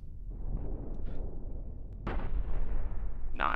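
Ship weapons fire in the Cosmoteer space game, producing booming, rumbling shots with a sharp blast midway and a bright whistling burst at the end.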